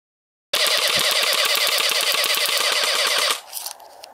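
Airsoft guns fire in a rapid, steady automatic burst of about thirty evenly spaced cracks lasting nearly three seconds, loud and close, then stop abruptly, leaving faint outdoor noise.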